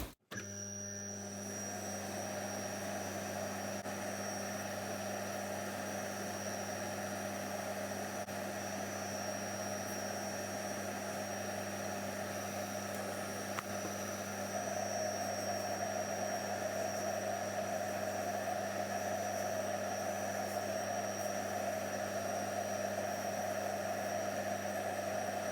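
A felt polishing wheel buffs a Citizen Skyhawk watch clasp, giving a steady, loud motor whine with a broad rushing hiss that runs unbroken the whole time and swells slightly toward the end, with no talking.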